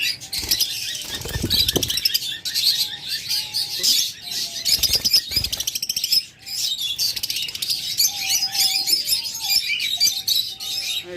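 Caged pet birds offered for sale chirp busily in a rapid, high, continuous twitter, broken by bursts of wing flapping and a few short whistled notes, close by.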